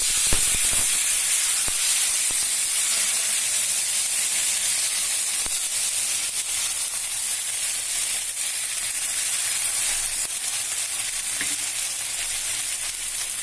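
Rava dosa batter spread on a hot pan, a loud steady sizzling hiss that holds evenly throughout, close and alone with no talk.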